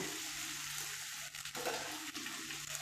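Taro root pieces frying in oil, a steady dense sizzling hiss with a few brief disturbances as the pieces are moved, fairly soft and without speech.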